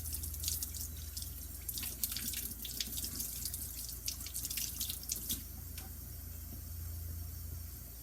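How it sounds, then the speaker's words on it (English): Water runs steadily from a kitchen tap as hands are washed beneath it, a continuous hiss punctuated by brief splashes and spatters, close and fairly quiet. "I'm gonna go ahead and wash my hands."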